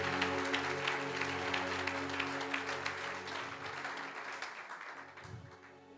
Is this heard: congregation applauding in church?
yes